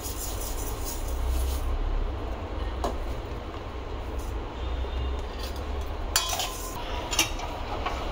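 Rice being dry-roasted in a pot for thalipeeth bhajani flour, with steady scraping and stirring clinks of a utensil against metal over a continuous low rumble, plus a few sharper knocks near the end.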